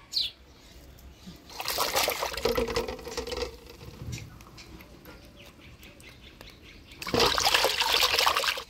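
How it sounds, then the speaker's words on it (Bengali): Water splashes and trickles as freshly cut small boroli fish are washed by hand, in two louder bursts of rinsing separated by quieter dribbling, with a bird calling faintly nearby. "মাছ কাটে নিলাম, এবার পরিষ্কার করে ধুয়ে নিই"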